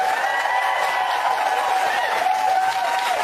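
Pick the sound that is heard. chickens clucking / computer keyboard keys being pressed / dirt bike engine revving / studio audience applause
studio audience applause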